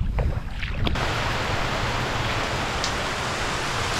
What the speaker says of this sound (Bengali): বৃষ্টি হচ্ছে, ওই জন্য ভালো লাগছে